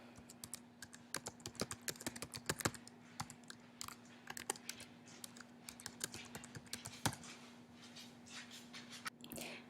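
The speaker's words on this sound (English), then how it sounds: "And then type in my password" Password typed on a computer keyboard, quiet irregular key clicks in short bursts with pauses, over a faint steady hum.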